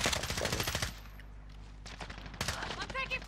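Rapid automatic gunfire in Call of Duty: Modern Warfare Warzone comes in two loud bursts separated by a quieter pause, with a voice talking toward the end.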